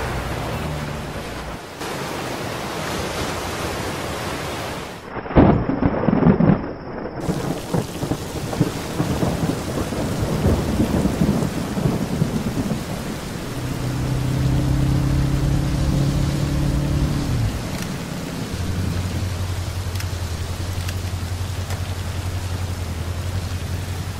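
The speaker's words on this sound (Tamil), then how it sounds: "மழை வந்துருச்சு, மழை நின்று போலாம்." Heavy rain pours steadily throughout, with a loud thunderclap crashing near the start and rumbling on, then the downpour continues under lower droning tones.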